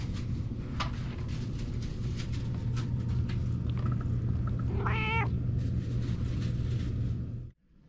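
A pet cat gives a single clear meow partway through, heard close over a steady low engine-like rumble inside an RV on a road trip in Arizona.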